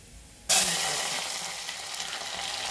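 Garlic dropped into hot oil with mustard seeds for a dried-fish curry (karuvattu kuzhambu) gives a sudden loud sizzle that holds as a steady, crackling fry, with no talking.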